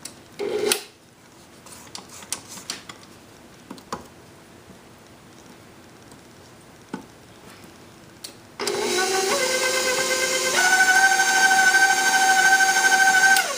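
Light scraping and clicks come first, then an electric mixer beating cake batter kicks in with a loud, steady whine. Partway through it climbs to a higher-pitched, faster hum on high speed, and no one speaks.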